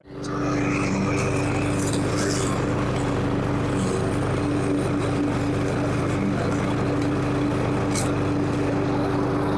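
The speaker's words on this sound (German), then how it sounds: "Ich bin gerade heute dabei, das erste Mal Rasen zu mähen." A lawn mower cutting grass for the first mow of the season in a lakeside garden, running as a steady, loud engine drone with a constant hum throughout and no pauses.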